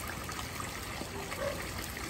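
Water pouring and trickling steadily while a person is being washed and rinsed, a continuous close splashing flow with no break and no voices.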